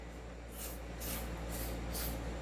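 Short hissing bursts of silicone oil lubricant sprayed onto an airsoft Glock, three or four quick puffs spaced about half a second apart over a steady low background hum.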